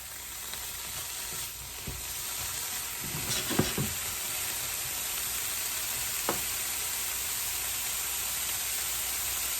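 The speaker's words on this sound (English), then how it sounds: "broccoli is still simmering here. It's starting to turn nice and brown on the sides." Broccoli sizzling and browning on a skillet for a home hibachi meal, a steady close hiss of frying with a few faint scrapes and taps of a utensil, no talking.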